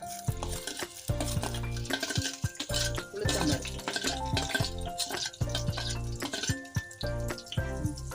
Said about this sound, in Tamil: அது நல்லா கொஞ்சம் பொன்னிறமாக வறுக்கிற மாதிரி நல்லா வதக்கிடுங்க